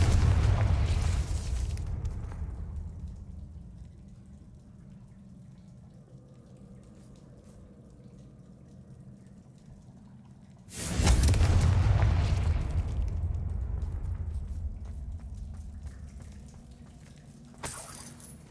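A Confringo fire spell explodes in Hogwarts Legacy, a deep booming blast with a rumbling, fiery tail that fades slowly. A second heavy explosion erupts later and rolls on, loud and close, with no talk.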